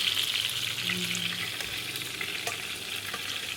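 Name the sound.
tandoori chicken frying and sizzling in a pan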